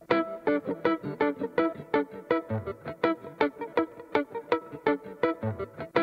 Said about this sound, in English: Kind of a very staccato rhythmic part with there's lots of reverb going on too